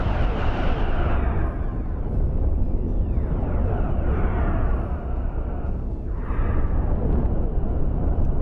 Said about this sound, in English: Explosion! The Guardian is down.